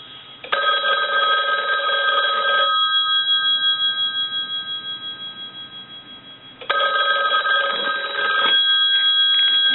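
A Western Electric 500 rotary telephone bell rings loud and close in two long bursts separated by a pause, with a fading hum lingering between the rings.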